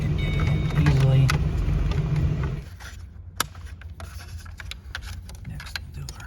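A 2005-2009 Ford Mustang engine runs with a loud, deep rumble for the first few seconds. It then drops away, leaving faint clicks and handling noises inside the car.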